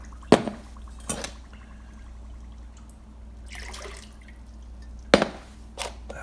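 Water is poured into glass jars and swirled around to rinse out sediment left from making peach wine, giving a few sharp splashes and drips spaced out over quiet stretches, with softer sloshing in between.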